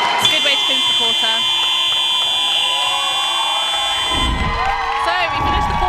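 A netball court buzzer ending a quarter at a varsity match, a sustained electronic tone over a noisy indoor crowd, with cheering and shouting swelling near the end.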